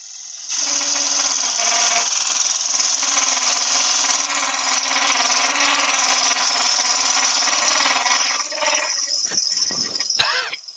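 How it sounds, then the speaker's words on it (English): Tenon being cut on a burr yew vase blank spinning on a lathe, with a loud, steady scraping and hissing of the tool against the wood for about nine seconds, close by, then a few short scrapes as it stops. "Let's just cut a tenon on there."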